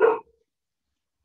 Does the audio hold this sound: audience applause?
no